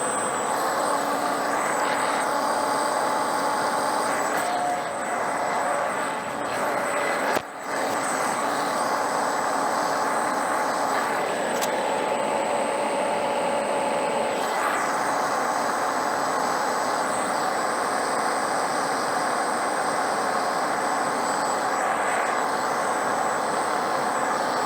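A metal lathe takes a facing cut across the end of a balancer spacer workpiece, giving a steady, continuous machining whir and hiss that holds evenly for the whole stretch with no talking.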